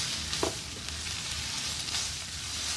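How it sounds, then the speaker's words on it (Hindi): Chicken fries in a pan with onion and garlic, giving a close, continuous sizzle with a short stirring scrape partway through. "चिकन इसमें शामिल कर देंगे और इसको भी इसी प्याज और लहसुन में अच्छे से फ्राई कर लेंगे"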